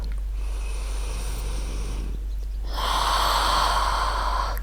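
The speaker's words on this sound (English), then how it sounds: "1 more breath." Slow, deep breathing during a calming yoga pose with the head lowered below the heart, a long soft exhale followed by a fuller, airy inhale, close and steady with no talking.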